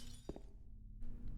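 Glass shatters in a brief, muffled jump-scare sound effect in the survival horror game Silent Hill 2, one short crash over a low rumbling ambience.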